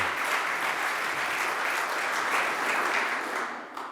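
Conference audience clapping in a hall, a dense, even round of applause held throughout and fading slightly at the very end.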